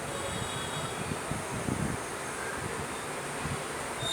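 Bees and bumblebees swarming around lotus flowers give off a continuous soft drone that holds steady at low volume throughout, with no voices.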